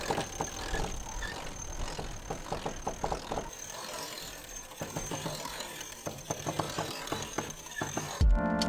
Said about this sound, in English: The electric winch is not electric anymore.